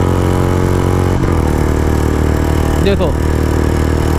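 A Bullet motorcycle engine pulls in fourth gear during a race between a new and an old Bullet, a loud, steady, close-up roar that runs the whole time under a man's brief speech.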